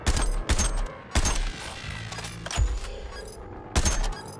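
Enemy gunfire in the video game Suicide Squad: Kill the Justice League: repeated heavy bursts of shots with deep booming impacts, loud and close, arriving in irregular clusters.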